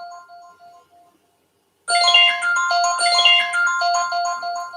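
Electronic telephone ringtone: a faint, sparse chime gives way after a short silence to a loud, busy run of bright melodic tones that continues steadily to the end, with no talk over it.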